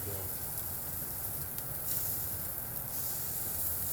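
Wagyu beef searing on a hot griddle, a continuous broad hiss that holds steady and fairly close for the whole stretch with no clear breaks.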